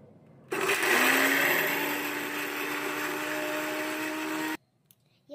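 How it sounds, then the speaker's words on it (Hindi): A mixer grinder whirs loudly as it blends boiled peas for hara bhara kebab, a steady high-pitched motor roar that runs for about four seconds on its own and then cuts off abruptly. "ये मैंने उबले हुए मटर लिए थे जिन्हें हम मिक्सी में ब्लेंड करेंगे"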